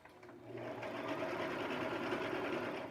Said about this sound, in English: It's just a regular sewing machine.